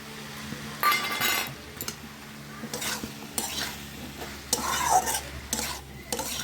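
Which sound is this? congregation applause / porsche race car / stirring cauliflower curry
stirring cauliflower curry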